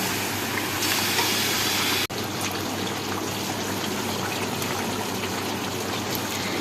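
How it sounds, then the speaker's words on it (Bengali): Meat and spices sauté in a pan, giving a steady, close hiss and sizzle with a brief sharp knock partway through and no talk. "এবারে এই মশলাটাকে ভালো করে কষিয়ে নেব মাংসের সাথে"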